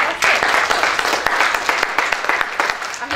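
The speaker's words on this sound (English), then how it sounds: "Round of applause." Audience at a talk on compassionate care in nursing breaks into applause, dense overlapping claps forming a steady, fairly loud wash with scattered sharper individual claps throughout.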